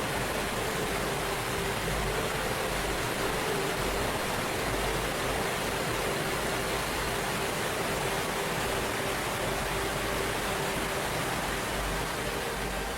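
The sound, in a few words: Fossa Waterfall on Streymoy, Faroe Islands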